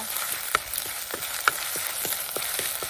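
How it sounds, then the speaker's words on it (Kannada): Ginger garlic paste fries in a pan for a quick egg dish, giving a soft, continuous sizzle with light rhythmic stirring scrapes, quiet and close. "ಅದನ್ನು ಸ್ವಲ್ಪ ಫ್ರೈ ಮಾಡುವ"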